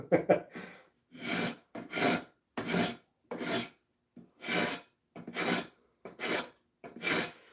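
A farrier rasp files steadily in about nine regular strokes, each a close, loud rasping scrape separated by brief pauses, with no talk.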